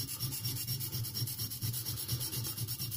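A French Thiers pocket knife tip being ground on a Norton India Fine stone makes a rhythmic, rasping scrape of quick back-and-forth strokes, close and steady, with no voices.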